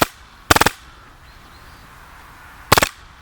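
A powerful air pistol fires BBs at cans outdoors in two loud bursts of rapid, sharp cracks about two seconds apart, with quiet in between.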